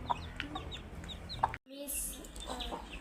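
A backyard hen with three young chicks feeding around her clucks in short soft bursts close by, joined by thin chick peeps, with a brief dropout midway.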